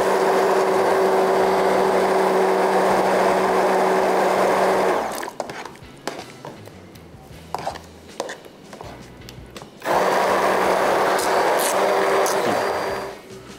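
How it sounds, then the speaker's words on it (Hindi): Mixer grinder grinding masala, a loud dense whirring roar running about five seconds, then a pause with rattling and knocks of the jar, then a second burst of grinding of similar length. "थोड़ा सा और ग्राइंड करेंगे बस।"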